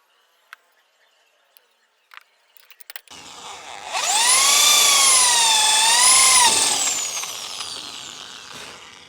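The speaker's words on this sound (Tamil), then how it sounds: "ட்ரில்லிங் மிஷினை வச்சு ஹோல்ஸ் வந்து போட முடியும்." A drilling machine bores a hole in metal while making a pogo stick at home, a few faint clicks and handling knocks before the motor spins up into a loud, sustained whine that wavers in pitch and fades slightly at the end.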